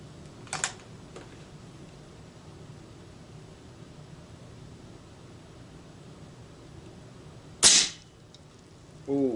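An Air Force Condor/Escape air rifle fires Nielsen 36gr slugs at 40 yards: a faint crack early on, then a sharp, louder report near the end, with a low steady hiss of background between them.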